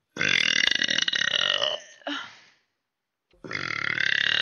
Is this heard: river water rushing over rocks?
no